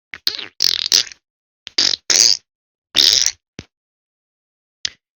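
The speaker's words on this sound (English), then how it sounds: "The fart doesn't stay at one note." Flatulence from lactose intolerance: a series of about eight loud, raspy bursts of varying length and pitch, some clustered and some isolated, separated by silence, heard alone without speech.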